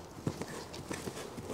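A horse's hooves clip-clop on an arena footing during a flying change in a training session, several quick, soft footfalls in an uneven rhythm, fairly faint and close, with no talk over them.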